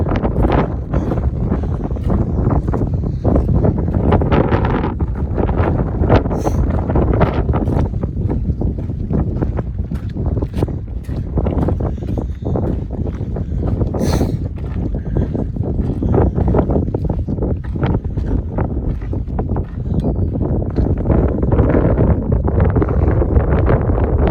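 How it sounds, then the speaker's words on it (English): Strong wind blows on a rugged mountain trail in the Sierras, a loud continuous roar and buffeting against the microphone throughout, with no voices. "The wind blowing."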